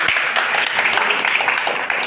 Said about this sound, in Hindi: तो आप लोग अपने लिए मशहूर ताली बजा लीजिए